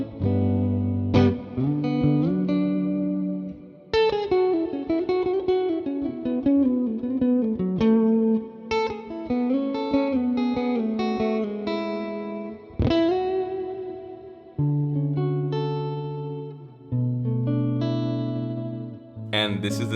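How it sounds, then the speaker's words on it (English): Electric guitar played through a solid state amp, a continuous close run of chords and melodic lines with an effected, slightly distorted tone and brief pauses between phrases. "this is the sound of a solid state amp."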